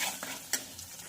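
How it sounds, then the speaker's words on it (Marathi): Spice paste fries quietly in a pan for hotel-style paneer, a soft sizzle broken by a couple of brief scraping stirs, close and faint. "ही पेस्ट आपल्याला छान अशी फ्राय करून घ्यायची आहे।"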